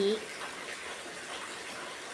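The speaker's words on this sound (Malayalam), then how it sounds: "വെള്ളം വളവളാ വീഴുന്നുണ്ട്" Rainwater pours steadily down from a house terrace, a continuous even rushing splash that sounds fairly close and holds without change.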